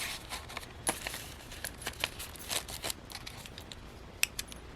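Scissors snip through paper for a junk journal envelope at a craft table, a series of quiet, irregular crisp cuts and rustles close by.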